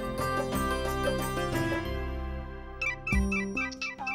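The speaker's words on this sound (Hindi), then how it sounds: "आपकी बहन का फोन है" Phone ringtone for an incoming call, a bright melodic jingle of repeated tones playing fairly loud and close, ending in a few sharper chiming notes, with no talk.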